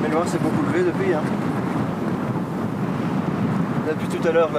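Strong gusting wind buffets the microphone on the slopes of a volcano, a steady roaring rush that runs throughout while a person speaks now and then.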